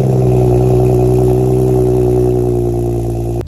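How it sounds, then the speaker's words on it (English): BMW N55 engine with a catless ARM downpipe during a cold start, a loud, steady, high-idle drone with a deep exhaust rumble that holds constant, then cuts off abruptly at the end. "But let's get this cold start."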